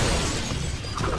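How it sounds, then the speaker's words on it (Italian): Glass smashing in the Lego Batman 3 video game, a dense, loud burst of shattering noise filling the whole moment, with no voices. "Schiaccia vetro."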